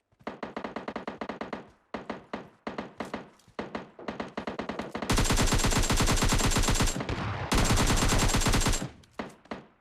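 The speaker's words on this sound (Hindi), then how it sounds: "फायरिंग की आवाज़ इस तरीके से आती है कि लगता है कि दो बॉट आपस में लड़ रहे हैं" Gunfire between bots in PUBG Mobile Lite during a zombies-mode match: rapid bursts of automatic fire with short pauses, then long sustained volleys, loud and close, without speech.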